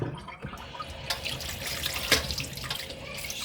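Meat for Mexican posole being washed under a running kitchen tap, a steady close splashing and gushing of water into the sink with irregular spatters, with no talking.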